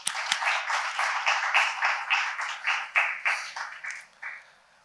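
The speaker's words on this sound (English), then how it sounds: "Please join me in welcoming them with a warm round of applause." Warm applause from a conference audience welcoming a panel of speakers at a polar-region dialogue event, steady dense clapping with rhythmic swells that gradually fades out, no voices over it.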